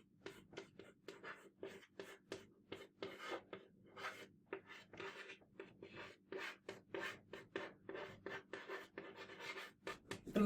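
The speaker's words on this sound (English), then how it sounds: "I'll write it here." Marker or chalk scratches and rubs quickly across a board in a lecture setting, producing a close, dense run of short strokes and taps at a brisk, uneven rhythm, with no voice over it.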